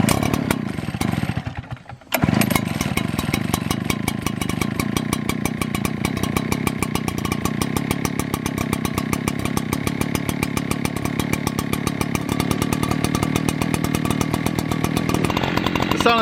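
A small two-stroke Echo PB-8010H backpack leaf blower engine runs loudly and steadily after a brief pause, its buzzing drone holding near and constant throughout.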